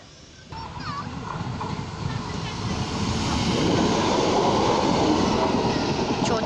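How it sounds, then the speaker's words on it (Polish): A train rolls past a railway level crossing as a loud, steady rumble of wheels on track that swells and holds, with a brief voice near the start. "dzisiaj sobie będziemy nagrywać pociągi"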